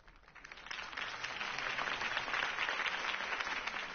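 A crowd claps steadily, a dense wash of applause that swells slightly and holds, heard from a distance without voices.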